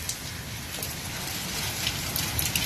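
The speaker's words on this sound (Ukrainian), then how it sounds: "І дощ не на жарти." Heavy thunderstorm rain pours down in a steady, dense hiss of drops drumming on surfaces, loud and continuous throughout with no pauses.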